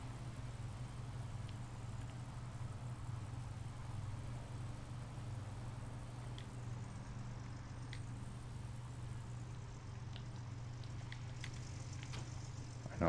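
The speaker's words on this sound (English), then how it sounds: "I know I'm leaving my engine on." A vehicle engine left idling in the mining game Gold Rush, a steady low hum with a faint hiss running unbroken and fairly quiet, with occasional small clicks on top.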